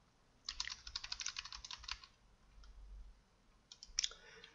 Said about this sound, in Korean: F4를 두 번 눌러서